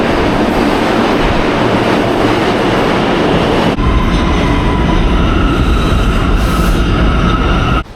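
A New York City subway train roars loudly and continuously nearby, with a dense rumble that shifts partway through into a steadier run with sustained metallic tones, then cuts off abruptly at the end; no one speaks.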